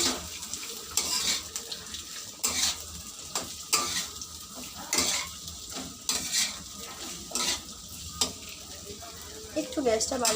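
Chopped bottle gourd peels frying and sizzling in hot oil, with a spatula stirring and scraping the pan in irregular bursts, close and moderately quiet.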